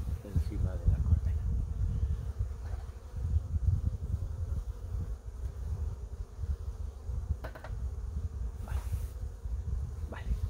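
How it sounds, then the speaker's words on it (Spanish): Bees buzz thickly around a beehive being readied for winter, a dense close drone with individual insects passing near, beneath low rustling handling sounds. "es fundamental tener cuidado porque hay abejas por aquí y podemos eliminarlas"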